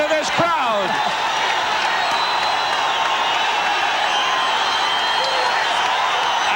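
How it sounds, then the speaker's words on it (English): Boxing crowd at the Great Western Forum roaring loudly and continuously, a dense wall of cheering and shouting with whistles and whoops, sustained at full volume throughout. "this is as loud as I've ever heard a boxing crowd of this size at the Great Western Forum"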